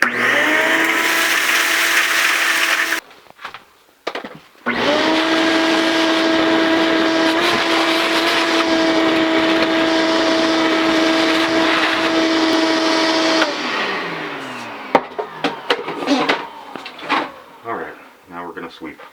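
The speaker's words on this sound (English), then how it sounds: "First thing we're going to do is vacuum from the inside." A vacuum cleans a residential dryer vent from the inside, the motor roaring loudly and steadily with a droning whine for about ten seconds after some clattering with the nozzle, then cutting off into knocks and rattles.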